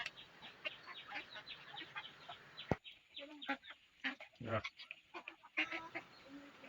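Ducks on a small local duck and chicken farm give repeated close quacks and clucking calls in uneven bursts over light background noise.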